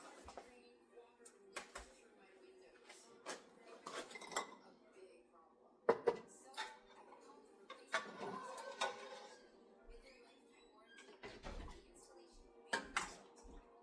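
Ladle and metal pots clink and scrape while beef stew is dipped out of two pots for canning, with sporadic close knocks and clatters in a quiet kitchen.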